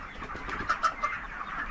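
Chickens clucking inside a large poultry farm that holds about 5000 birds, a dense, steady chorus of soft clucks with a few louder calls rising from it.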